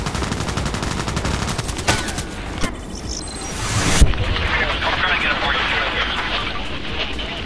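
Gunfire in the online shooter Contract Wars, a long run of rapid automatic shots repeating steadily, broken by a few louder single cracks, then a sudden shift to a rushing, roaring ambience with more distant firing.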